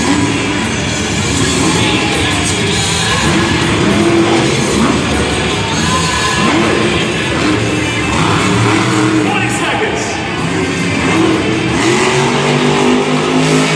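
The Dragon monster truck's engine revs loud and continuous at a Monster Jam show in San Diego. The roar fills the arena while an announcer talks over it.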